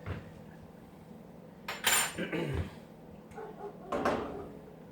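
Fork clinking and scraping beef and broccoli in a nonstick pan at home, a few brief metallic scrapes and taps clustered together, fairly close, with no talking.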